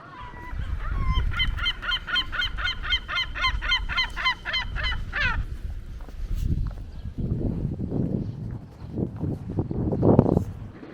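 Harsh repeated calls from seagulls in a quick series at empty docks, then scattered thumps and shuffling noises.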